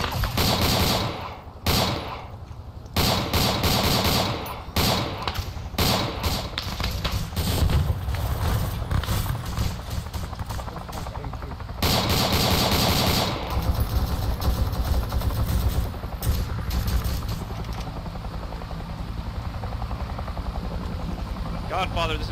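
Gunfire during Arma 3 co-op infantry combat near bunkers, dense machine-gun bursts and rifle shots crackling close and loud over a constant helicopter rotor drone, with voices shouting among the shooting.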